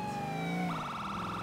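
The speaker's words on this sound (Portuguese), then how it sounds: "Colocar a sirene aqui pra já chegar botando apavoro," A police car siren in the GTA video game wails steadily, then switches to a fast warbling yelp, loud and continuous throughout.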